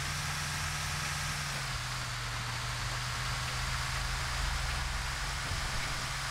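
Bus engine in the video game GTA V, driving downhill, a steady low droning engine rumble with a constant hum, faint and unbroken, no voices.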